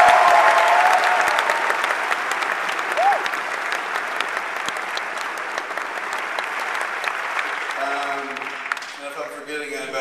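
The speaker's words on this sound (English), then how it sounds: "So give them a big round of applause." Audience at a live podcast taping gives a big round of applause, a dense sustained clapping wash that starts loud and slowly fades, with a few cheers and whoops mixed in before it thins out at the end.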